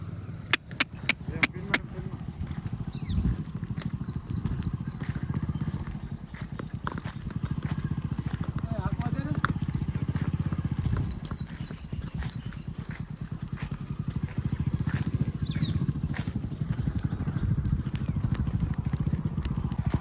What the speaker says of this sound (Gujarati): તો ઘોડાને માથેથી કૂદાવાનો કેવો કૂદે, બહુ ધીમો ધીમો કૂદે